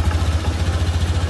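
A motorcycle engine runs as the throttle is pulled fully open, a loud, pulsing low-pitched exhaust throb holding steady through the short span.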